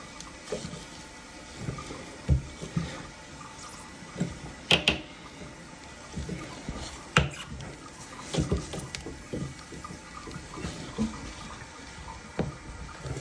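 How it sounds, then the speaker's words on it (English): Water running through a faulty toilet fill valve, a low continuous hiss and trickle with irregular gurgles and small knocks, close and fairly quiet, no voices. "you can hear water"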